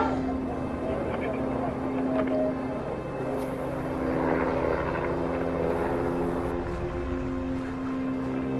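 A helicopter engine and rotor roar loud and steady throughout in an action movie scene, with voices talking underneath.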